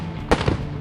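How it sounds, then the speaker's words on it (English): A cartoon sandwich-shooting cannon firing, one sharp burst like a firecracker pop followed by a second smaller crack, loud over a busy, dense sound backdrop without talk. "sketched a super cool sandwich shooting cannon"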